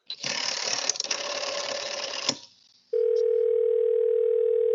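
A telephone handset lifted and a rotary dial turned with a whirring ratchet, then a brief hush before a steady, loud dial tone starts and holds, calling the operator.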